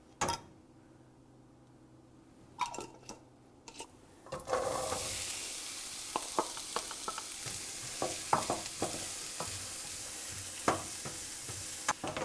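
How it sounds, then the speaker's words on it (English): Onions hit an oiled skillet over medium-high heat and start frying with a steady sizzle, punctuated by scrapes and knocks of stirring; a few clunks come before the sizzle starts. "now we will caramelize our onions over medium-high heat"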